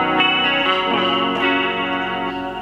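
An electric guitar plays through an Arion chorus effect pedal, giving a wavering, shimmering tone to notes and chords that ring close and clear.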